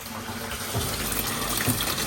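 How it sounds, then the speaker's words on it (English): A water tank fills from a hose or tap outdoors during a patio cleaning job, a steady close gushing and splashing of running water with no break and no voices. "Got the tank filling, water doesn't look too bad."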